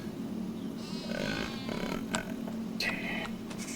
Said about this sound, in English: Sheep, you are being loud today.